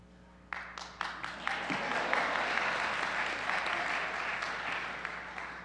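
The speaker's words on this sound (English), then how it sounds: "I'm not sure if you're applauding my self-deprecation" An audience at a law school commencement breaks into applause. A few scattered claps quickly build into a full, sustained round of clapping from a large seated crowd that holds steady to the end.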